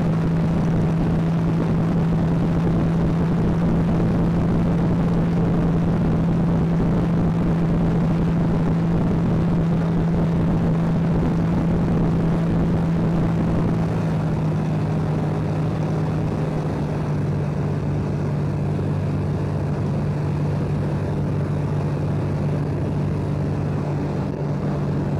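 A light aircraft engine drones steadily and loudly while flying circuits around an airfield, a constant even hum that holds without pause and with no talk over it.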